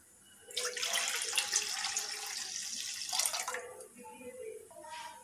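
Water poured into milk in a kadai for payasam, a steady close splashing pour lasting about three seconds, then a softer trickle while a voice briefly speaks near the end.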